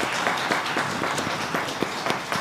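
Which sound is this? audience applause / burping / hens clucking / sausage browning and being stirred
audience applause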